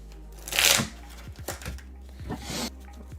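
A deck of Pokemon trading cards riffle shuffled, with a brief fluttering burst followed by light taps and a second softer riffle, all quiet and close.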